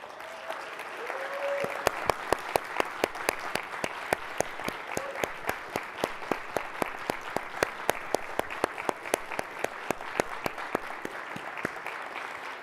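Conference keynote crowd applauding steadily for the organizers, a continuous sustained clapping wash with sharp individual claps cutting through close by in a regular rhythm for over ten seconds.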